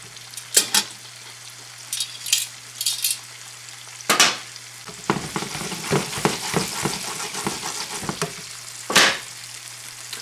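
Chicken and shrimp searing in a hot pan, a low steady sizzle broken by clusters of sharp spatters and pops, some utensil clinks, close and fairly loud, with no talking.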